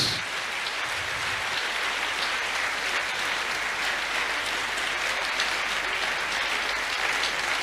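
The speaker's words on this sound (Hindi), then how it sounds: "यीशु नासरी के लिए जोरदार तालियां" Congregation at a live church service applauding loudly for Jesus, dense continuous clapping that fills the whole stretch at a steady level.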